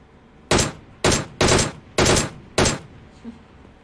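Five loud, separate gunfire bursts from the mobile battle royale game PUBG Mobile, about half a second apart, each sharp and broadband with a short tail, standing alone with no talk.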